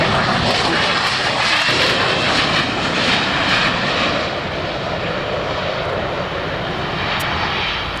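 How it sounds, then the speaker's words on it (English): A SAAB AJS-37 Viggen jet fighter at an airshow, its loud steady engine roar filling the air, slightly easing off during a short landing. "from Major Stellan Andersson, a splendid demonstration of the Swedish Air Force Historic Flight SAAB AJS-37 Viggen"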